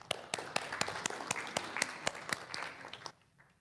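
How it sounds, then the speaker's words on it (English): A small church gathering gives a round of applause for a woman coming up to make announcements, sparse distinct claps in an uneven rhythm, fairly close, that stop abruptly after about three seconds. "Let's give her a round of applause"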